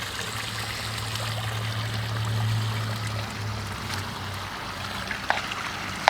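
Clear city tap water runs steadily through a fluid bed separator, a continuous close trickle and rush of flowing water with a low hum underneath.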